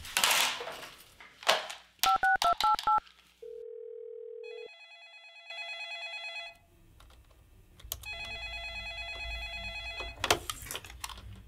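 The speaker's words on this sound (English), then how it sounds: "just pick up the phone and call New Scale" Telephone sounds during a call: quick dialing tones, a long steady tone, then repeated electronic ringing with brief gaps, all loud and close, with some faint rumbling noise under the later rings.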